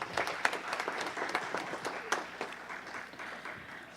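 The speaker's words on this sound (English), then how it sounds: "Give them a round of applause, please." Audience applause fills a council meeting chamber, a steady mass of clapping hands with scattered sharper claps, sustained evenly for several seconds at moderate loudness.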